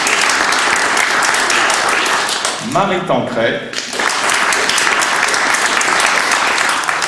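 A crowd applauds loudly and continuously at an award ceremony. The clapping dips briefly while a voice speaks over it, then carries on at full strength.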